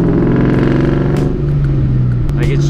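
A supercharged car engine with boreless stinger exhausts revs with a steady, droning exhaust note and a faint high supercharger whine, close and loud throughout, with a voice talking over it.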